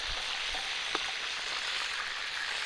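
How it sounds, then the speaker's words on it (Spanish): Vegetables for a Cordovan-style oxtail stew sautéing in oil in a pan, giving a steady, close, even sizzle and crackle with a few soft stirring clicks throughout. "Para darle una vuelta, sofreír toda la verdura"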